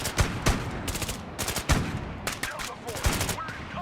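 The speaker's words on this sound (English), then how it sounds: "Just shotguns, machine guns, and rifles." Shotgun, machine gun and rifle fire in Broken Arrow: a dense, continuous crackle of overlapping shots and rapid bursts at mid distance, steady throughout with occasional sharper reports.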